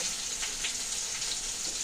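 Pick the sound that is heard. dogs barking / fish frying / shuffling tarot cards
fish frying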